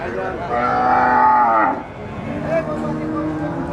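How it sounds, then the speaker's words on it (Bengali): A nine-month pregnant cow at a village cattle market gives one long, loud, close moo, followed by a shorter lower call, with market chatter and voices in the background. "নয় মাসের গাভীন একটি গরু"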